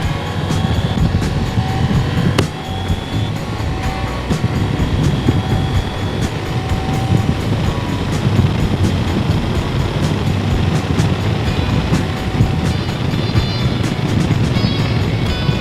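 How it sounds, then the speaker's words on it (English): Steady, loud wind roar buffets a moving vehicle driven with its extra windshield removed, a dense rushing noise with no talk. "with the extra windshield removed, there's a lot of wind noise, but it's not terribly rough"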